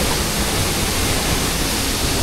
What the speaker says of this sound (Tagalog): Nakabukas pa yung gripo guys